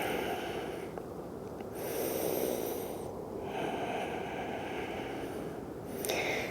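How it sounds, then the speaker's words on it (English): Slow, deep breaths during a restorative yoga forward fold, with long audible inhales and exhales in an unhurried rhythm, close and fairly soft with no talking. "Taking a breath here."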